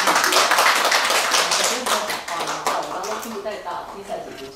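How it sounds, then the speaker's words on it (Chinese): A crowd at a Chinese New Year gathering claps in a dense burst of applause that slowly thins out and fades, with voices talking over it. "我再给他一个掌声，都是自己家人嘛。"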